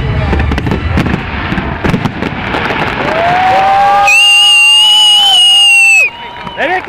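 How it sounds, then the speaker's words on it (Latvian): Fireworks burst during a Riga city festival salute, with broadband crackle and pops under excited crowd voices and talk, then a loud rising whistle before the sound briefly drops away. "Mārtiņ, kur turpinājums tavam salūtu?"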